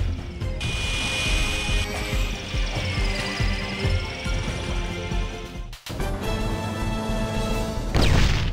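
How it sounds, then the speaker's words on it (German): A drill weapon in a video game whirs and grinds with a dense, whining mechanical drone. It cuts out briefly near the end, then resumes at full strength. "Viele Spieler erinnert das Geräusch des Bohrers auf sehr unangenehme Weise an ihren letzten Besuch beim Zahnarzt."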